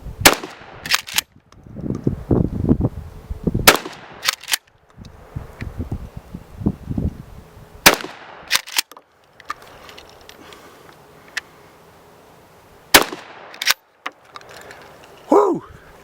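A DA Grizzly pump shotgun, an 870 clone with a 12.5-inch barrel, fires 3-inch magnum buckshot in several sharp, loud outdoor blasts spaced a few seconds apart, with pump-action clacks and rustling between shots.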